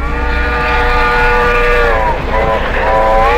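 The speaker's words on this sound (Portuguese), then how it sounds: "Tenho que descobrir um jeito de parar esse trem rápido." A fast train in the video game Poppy Playtime rumbles steadily with a low droning hum and layered tonal whine, loud and continuous throughout, with no talking.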